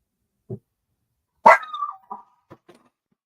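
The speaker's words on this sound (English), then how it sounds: "That was our dog." Indoors, a dog lets out one sharp, loud bark, followed by a few shorter, quieter yips and whines against an otherwise silent room.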